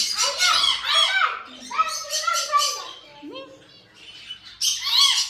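Several parrots and other birds in a pet shop squawk and chirp loudly and close by, overlapping harsh calls and whistles in bursts, with a brief quieter gap before another loud burst.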